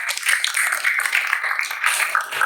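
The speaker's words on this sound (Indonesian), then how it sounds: "Tepuk tangan." Students applauding in a classroom after a push-up and sit-up fitness lesson, a steady bright patter of many hands clapping at once for a couple of seconds, fairly close and with no talking over it.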